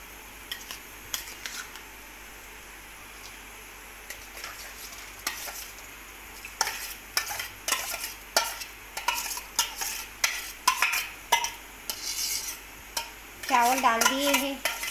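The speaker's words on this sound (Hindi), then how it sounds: "अब हम इसमें चावल डालेंगे" Rice poured into hot milk and stirred in a pot while making kheer: steady scraping and clinking strokes of a spoon against metal, growing busier and louder toward the end, with soft bubbling underneath.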